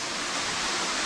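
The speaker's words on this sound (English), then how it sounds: "it's one more waterfall" Steady broadband rush of a waterfall in Michigan's Upper Peninsula near Lake Linden, heard close and continuous with no voices over it.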